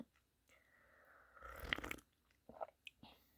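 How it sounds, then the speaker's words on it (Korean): Chocolate snapped and chewed at a tea table, quiet close crunching and mouth sounds that swell in the middle, then a few sharp separate bites near the end. "그래도 초콜릿 부서지는 거 재미는 있네요"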